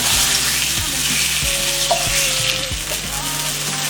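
Chicken with small vegetables browning in a hot pan, a loud, steady sizzle and crackle of frying, close up, with faint stirring knocks and clinks underneath.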